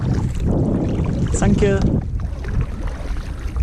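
Kayak paddling on open water in Norway, with a wash of water and wind noise throughout and a brief spoken voice partway in.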